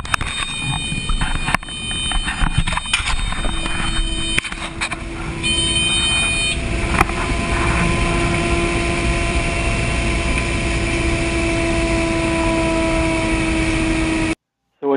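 Aircraft engine that cuts in abruptly after several seconds of rustling, switching straight to a loud steady whine with sustained tones, then stopping suddenly near the end.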